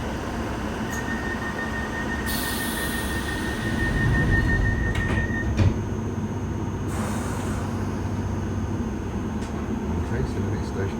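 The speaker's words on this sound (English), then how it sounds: "This is a Piccadilly line service to Rayners Lane." A London Underground Piccadilly line train rumbles along with a steady low roar, metallic wheel squeals and hums, heard from inside the carriage; an onboard announcement voice speaks over the running noise.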